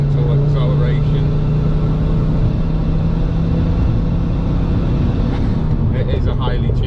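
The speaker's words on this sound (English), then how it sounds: "I'm going to choose a 4th gear, just not to do a pull, just to do a steady acceleration from about 48 mile an hour" A tuned Mk2 Ford Focus ST with gearbox trouble accelerates gently in fourth gear from about 48 mph, heard from inside as a loud, steady engine drone with a constant low hum and road rumble throughout.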